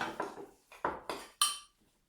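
Beef mince being stirred with herbs, spices and pink salt in a pot, a handful of distinct scraping, clanking strokes of a utensil against the pan in quick succession, close and fairly loud, with no talking.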